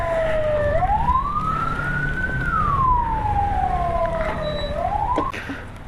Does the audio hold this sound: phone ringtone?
no